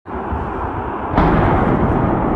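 A loud, sustained rumbling blast from an explosion at the Kuibyshev oil refinery after a drone strike, starting abruptly and swelling to a heavier roar partway through, with no speech over it.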